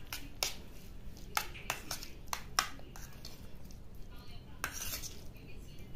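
A spoon clinks and scrapes in a bowl while rice is mixed with milk and ghee, several sharp metallic taps scattered over a soft steady background.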